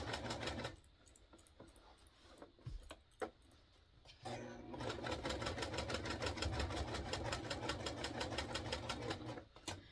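A sewing machine stitches a quilt in the ditches, starting with a few short bursts and knocks, then running in a fast, steady rhythmic chatter close by.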